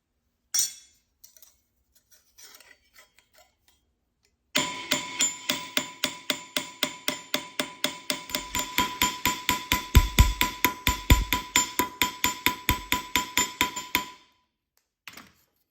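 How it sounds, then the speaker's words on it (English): Hammer striking metal edges to thin and flange them for a cramp seam, a long run of rapid, evenly spaced ringing metallic blows at close range, after a few quiet taps and before a final lone hit. "So we're gonna go hammer."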